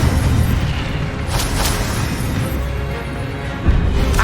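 Incendio fire spell bursts in the Hogwarts Legacy video game, a steady roaring whoosh with a few sharper booming pops, loud and close, with no voices.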